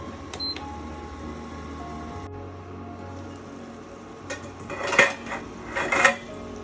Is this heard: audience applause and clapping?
no